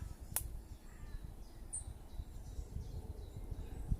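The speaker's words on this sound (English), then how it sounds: "I'm surrounded by a wonderful heavenly choir of bird song" Faint bird calls and chirps drift through a quiet woodland, over a soft low background rumble, with a sharp call near the start.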